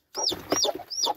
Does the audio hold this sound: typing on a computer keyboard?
no